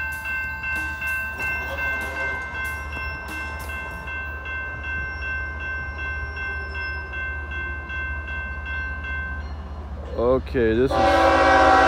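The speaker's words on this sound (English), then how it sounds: "We got a train coming up the hill right now." A loud, sustained train horn blares over the steady rumble of a heavy train climbing a hill, locomotives straining, with a brief voice near the end as the horn pitch wavers.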